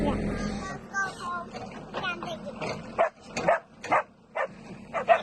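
A dog indoors gives a series of short, sharp barks and yips, several close bursts spaced irregularly, while a person talks over the first part.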